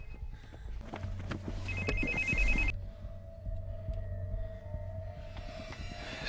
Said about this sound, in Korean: 어디선가 핸드폰이 울리는 소리를 듣게